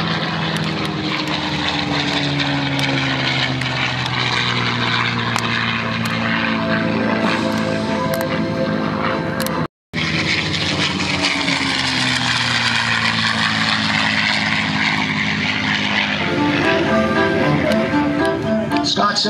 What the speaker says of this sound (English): Setting up for two photo passes, one from the left and one from the right, in the beautiful P-51 Mustang he calls QuickSilver.